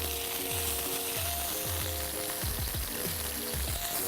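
Ribeye steak searing in a hot pan, a steady loud crackling sizzle running throughout with bursts of spitting fat, no talking.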